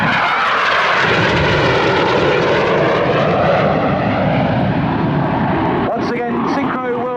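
Red Arrows jets at full power during an airshow give a loud, close, sustained jet roar that swells and shifts in pitch, then cuts off sharply near the end, leaving a brief fainter tail.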